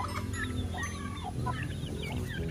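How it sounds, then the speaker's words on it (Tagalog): Chickens cluck and peep softly on a rural farm, with high chirps from newly hatched chicks scattered over low background noise, faint and close. "Bagong pisa na manok."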